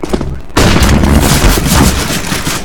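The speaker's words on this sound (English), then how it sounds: "Throwing flashbang." A flashbang grenade going off in Counter-Strike during a pro match, a sudden loud broadband burst that cuts in after a quieter half second and then stays dense and roaring to the end.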